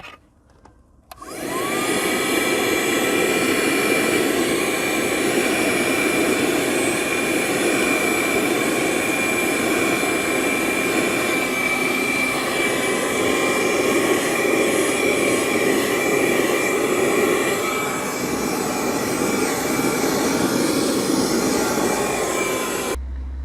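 An A-101 Piranha PVC-4005 handheld car vacuum cleaner starts abruptly after a second with a loud, steady high-pitched motor whine, running continuously and close by while cleaning, with no talking.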